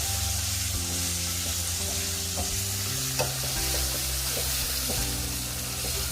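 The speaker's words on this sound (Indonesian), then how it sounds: "Kemudian kita ongseng hingga tercampur merata." Spice paste for East Javanese rawon stir-fried in a pan, with a steady, continuous sizzle and stirring scrapes throughout, close and fairly loud, with no talk.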